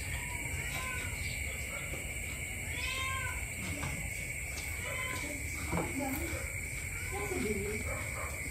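A cat named Garfield meows several times at a rural home, short rising cries scattered across the stretch at moderate distance over steady background noise, with a person talking now and then.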